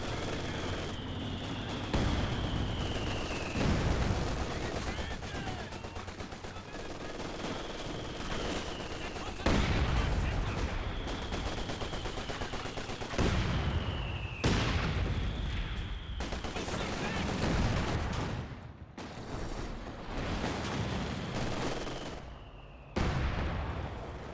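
Artillery barrage in a competitive real-time strategy match, with repeated heavy booms and crashing impacts every few seconds over continuous battle noise and a whistling shell-like tone, loud and close throughout.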